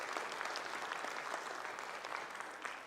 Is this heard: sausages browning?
no